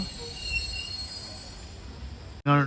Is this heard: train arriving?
yes